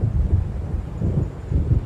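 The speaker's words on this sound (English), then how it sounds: "It seems there's a storm coming." Low, rolling thunder of an approaching storm in the video game Alan Wake, a continuous deep rumble that swells in soft waves, fairly loud with no voices over it.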